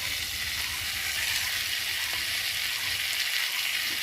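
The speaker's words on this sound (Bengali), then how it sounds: "এই সুন্দরভাবে মশলাটা ভালোভাবে কষে নেব আলু বেগুনের সাথে।" Spices frying with potato, eggplant and fried prawns for a pumpkin-greens chorchori, giving a steady, close, continuous sizzle with faint stirring scrapes throughout.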